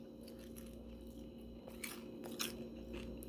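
Crispy Walmart low sodium bacon being bitten and chewed close up, a few sharp crunches standing out over a steady faint background hum, no talking.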